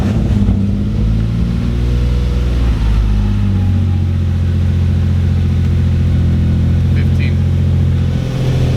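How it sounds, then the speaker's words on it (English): An Infiniti G35 engine runs steadily close by, a loud, continuous low idle rumble with slight fluctuations throughout. "Now try to turn the car on."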